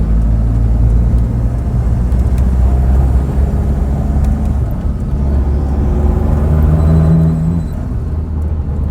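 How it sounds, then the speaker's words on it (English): A Toyota Hilux with a turbocharged 1KD diesel engine accelerates on the road, a loud, continuous low rumble and drone from inside the vehicle that swells and eases over several seconds. "You can actually hear that turbo a little bit through the RMAX"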